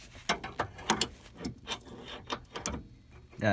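A magnetic extension tool turns in an engine mount bolt on a 2006-2011 eighth-generation Honda Civic 1.8L, giving quick, close ratcheting clicks and metal knocks in an uneven rhythm.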